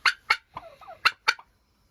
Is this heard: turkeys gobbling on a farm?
yes